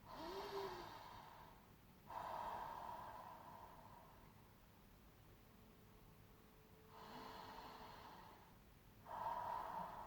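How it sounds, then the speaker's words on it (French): Slow, deep breaths drawn into cupped hands during a calming exercise, each long inhale or exhale a soft, close rush of air, separated by quiet pauses, faint and without speech. "Et vous pouvez fermer les yeux et respirer dans vos mains à plein poumon"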